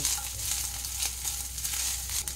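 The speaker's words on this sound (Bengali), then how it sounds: "একটু দাগ দাগ করে ভেজে নেব নারকেলটা" Coconut and peanuts frying together in a pan for Bengali vegetable chops, a steady close sizzle with faint crackle running throughout without pause.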